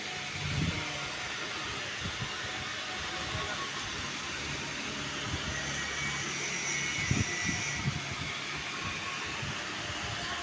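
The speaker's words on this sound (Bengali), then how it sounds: "এই যে বোরিংও প্রায় শেষের দিকে।" A boring machine cuts out a motorcycle cylinder in a workshop, a steady loud mechanical whir and hum that runs throughout with faint knocks and clatter underneath.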